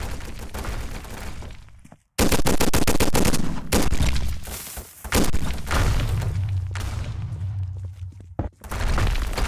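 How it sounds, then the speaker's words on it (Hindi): Gunfire in the Roblox shooter Gun Game: rapid bursts of shots, thuds and impacts crowd together at close range, with brief silent gaps between volleys. "मैं यहाँ से फिर गन से बुलेट मारने की कोशिश करता हूँ"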